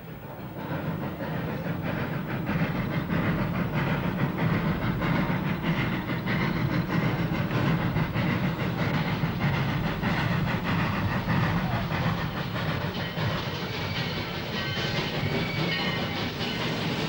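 Steam locomotive hauling a train up a high mountain railway line in Peru, a steady loud chuffing and rumbling of wheels on rails with hissing steam, continuous throughout with no talk.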